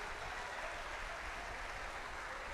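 Church congregation at a family worship service clapping together, a thick, continuous hiss of many hands that holds evenly from start to finish, heard from a little distance with no talk over it.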